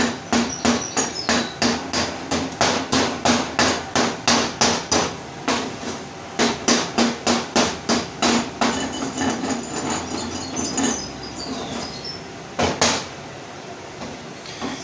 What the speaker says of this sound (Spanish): una vez que pasemos la piqueta para quitar la escoria